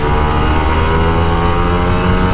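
An old Kawasaki Ninja RR 150 motorcycle, left unserviced for a year, revs in a loud, steady engine drone that holds for the whole couple of seconds with no voices.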